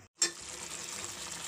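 A short burst of food frying in hot oil in a home kitchen, starting abruptly after a brief silence and continuing as a close, steady hiss.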